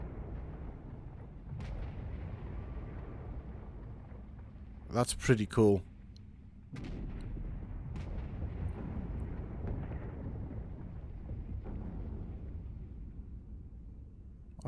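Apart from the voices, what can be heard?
explosions in the video game ARK Genesis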